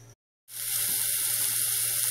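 Jackfruit seeds with onion, garlic and oil hit a hot pan with a sudden loud sizzle that keeps crackling and hissing steadily after a brief silent gap.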